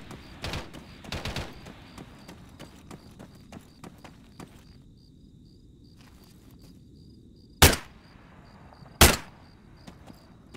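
Sparse gunfire in a Breaking Point video game match: a few quick clusters of shots early on, then two loud, sharp isolated cracks later, separated by stretches of quiet background hiss.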